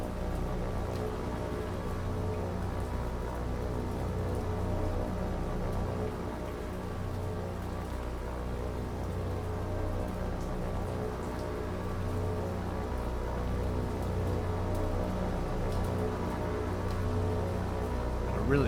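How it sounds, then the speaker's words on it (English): Steady heavy rain from the naval combat game War on the Sea pours without letup, a dense, even hiss over low rumbling engine drone. "I really can't see anything in this rain."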